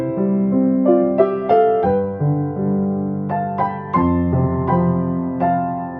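A piano plays a harmonized melody, the right hand moving in 3rds and 6ths over a left-hand pattern of root, fifth and octave in C, the phrases ringing out clearly and alone with no talking.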